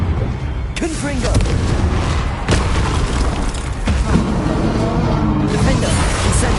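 The Confringo fire spell in Hogwarts Legacy detonates in a string of loud, deep booms and blasts with rumbling tails, and a voice is heard amid the combat noise.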